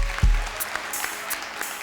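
A studio audience at a Ramadan quiz show bursts into steady applause for a correct answer, dense clapping that starts with a thump and carries on evenly throughout.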